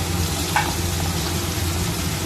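Green beans and spring onion stalks fry in a pan, producing a steady, close sizzle with a brief stirring scrape midway over a low kitchen hum.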